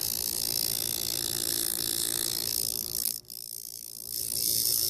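A record changer mechanism runs with a steady mechanical whir that turns uneven and chattering, briefly dipping about three seconds in before picking back up.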